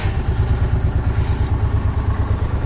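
A John Deere Gator utility vehicle engine cold-starts and runs on a farm, giving a steady, loud, low-pitched chugging idle with a fast regular pulse and some mechanical clatter throughout, heard up close with no voices.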